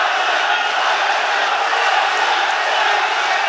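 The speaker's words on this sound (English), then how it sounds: "Listen to the sound of the crowd" A dense, loud roar from an MMA crowd at an ACB cage event in Rostov-on-Don, a sustained wall of cheering and shouting with no break.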